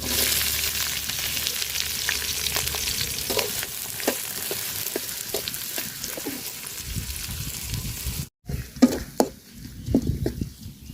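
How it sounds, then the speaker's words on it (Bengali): Chopped onions frying in oil in a pot, a continuous close sizzle with scattered stirring clicks and scrapes, and a brief break before more stirring near the end. "তো পেঁয়াজটা আমি সুন্দর করে লাল লাল করে ভাজা নিছি"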